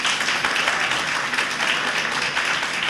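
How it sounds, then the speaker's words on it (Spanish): Audience applause at a book launch event following a musical performance, a steady broadband patter of clapping that continues without pause and stays even in level throughout. "Un gran aplauso nuevamente."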